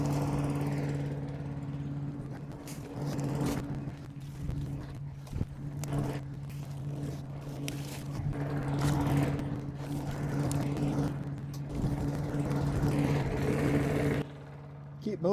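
Leaf blower droning steadily at close range as it forces air into a burning pile of green wood, with crackling and rustling over the continuous engine hum.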